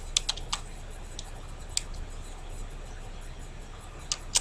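Keys on a computer keyboard tap in sparse, irregular clicks close by, with a few sharper strikes against a quiet room hiss.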